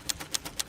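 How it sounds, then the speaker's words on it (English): A manual typewriter is struck three times at an even, quick rhythm, each sharp metallic click close and distinct over a soft background hiss. "I guess the sound of the typewriter."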